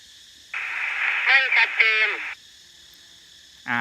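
A Spender two-way radio carries a voice transmission during a range test outdoors, about 1.1 km out: a hissing squelch opens, a distorted voice comes through briefly, the carrier cuts off, then another burst begins at the end.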